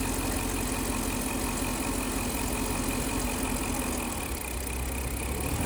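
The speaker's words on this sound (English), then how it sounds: "you can also audibly hear the engine start to operate a little bit differently." A car engine idles steadily through a 30-second test with the vapor system commanded open, a loud continuous rumble close by with a slight dip in speed toward the end and no talk.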